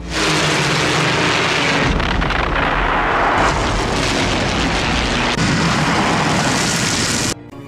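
Luftwaffe aircraft attack in a World War II film, with roaring plane engines and heavy explosions forming a loud, continuous wall of noise that swells and rumbles, then cuts away near the end.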